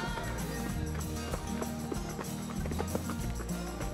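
Horses and pack mules carrying gear walk along a Colorado mountain trail, with continuous close clip-clop hoof steps over rumbling background noise.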